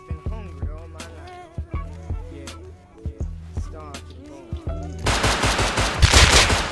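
Gunfire in the video game Rust: a run of sharp, loud single shots at an uneven pace, then a dense, rapid burst of automatic fire near the end, close and without talk.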